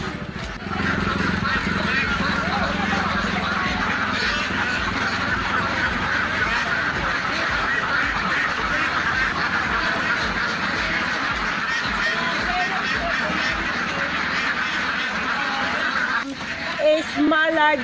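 Ducks quack continuously on a Philippine farm, a mallard crossed with the local Itik Pinas breed, kept behind bamboo fences; a dense, busy chorus of many birds close by, with people talking over it.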